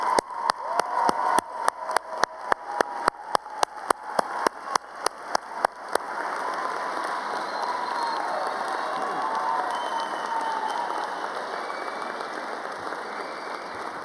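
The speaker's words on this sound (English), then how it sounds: "And let's give them a round of applause." A commencement audience first claps in sharp synchronized beats, then breaks into sustained mixed applause and cheering that fills a large hall at a steady level.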